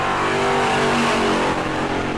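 Super Stock race car engine howling loudly and steadily at full throttle on a qualifying lap at New Smyrna, a sustained near roar with no talk over it.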